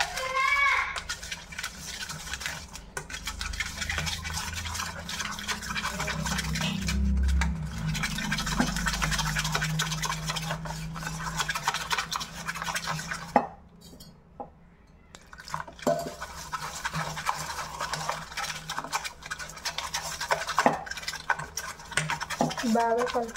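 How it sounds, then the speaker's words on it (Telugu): Bala Amrutham dosa batter is mixed with water in a bowl, giving steady wet stirring and scraping strokes close up, with a brief quieter pause midway. "కొన్ని కొన్ని వాటర్ వేసుకుంటూ కలుపుకోవాలి."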